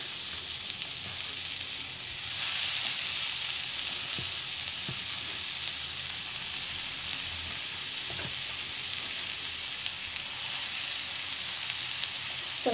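Smashed potato sautéing in a pan, a steady, even sizzle throughout with a few faint spatula taps and no voices.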